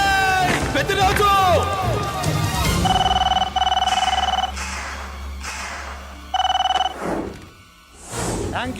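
A telephone rings in a Telugu movie scene starring Balakrishna: voices and a busy stir come first, then a bright electronic ring sounds in a long burst, pauses, and returns briefly.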